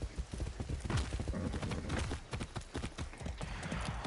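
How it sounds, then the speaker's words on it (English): A fiery horse's hooves clip-clop at a quick, steady trot in the video game Far Cry 6, a dense run of faint, close hoofbeats under low game ambience. "I've got a fiery horse as well."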